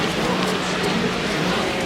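Rain falling outside Wembley Stadium ahead of a football match, a dense, even patter and hiss of drops on surfaces, fairly close and loud, running steadily through the short stretch without voices.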